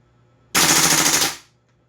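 A WE M4 RIS airsoft gas blowback rifle fires one loud, close full-auto burst of about a second, rapid shots blurring into a continuous rattle that ends abruptly as the magazine empties, followed by quiet.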